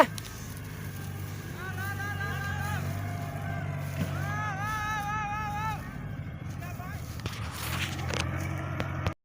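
A Kubota 70 tractor engine labors while pushing a small rice-laden tractor stuck in mud, a steady low drone under excited voices talking and calling out over it.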